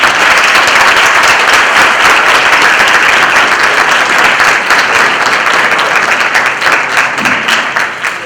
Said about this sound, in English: So I will ask you a big applause for our presenter.